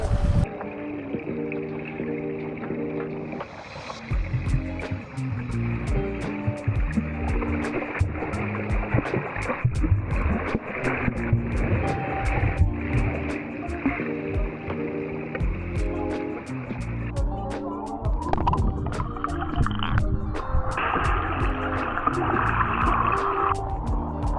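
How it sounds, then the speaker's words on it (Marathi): Swimming in a clear indoor pool, with continuous splashing and sloshing water, moderately loud and close, a steady churn of strokes with no talk. "Here we R again in to the pool doing the swimming."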